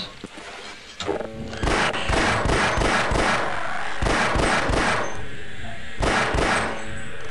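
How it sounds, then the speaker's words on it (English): A Glock pistol in Half-Life fires repeatedly inside a cramped vent, a rapid string of loud, sharp shots in quick bursts with brief pauses between them. "firing a Glock in this vent would actually deafen me quite a lot"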